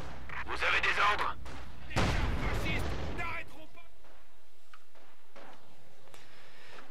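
Rocket barrage in the video game Company of Heroes 2, a burst of loud booming launches and blasts, then fading rumble and scattered distant impacts, with a voice speaking over it.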